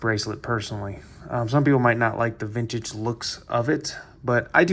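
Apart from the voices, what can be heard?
No everyday noises stand out.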